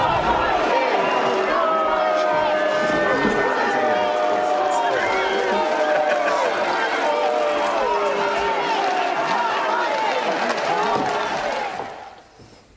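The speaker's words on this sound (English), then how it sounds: "anti-monarchy crowds gathered in Whitehall to give King Charles's carriage their own special welcome" Anti-monarchy protesters crowd Whitehall as King Charles's carriage passes, a loud dense mass of shouting and chanting voices that continues steadily before fading out at the end.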